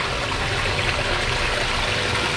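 Water sloshes and churns continuously around someone wading waist-deep in a cold koi pond, a loud, close, steady wash of splashing with no pauses.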